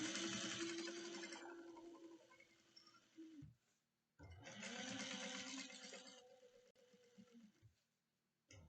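Sewing machine top stitching a vinyl and fabric bucket bag at 1/8 inch, two runs of fast steady whirring stitches of a few seconds each, separated by a short pause, close and fairly quiet.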